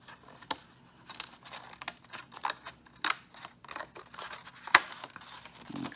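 Scissors snip away jagged paper edges for a simple ring toss craft, a steady run of small close cuts and crisp paper crinkles with no one speaking.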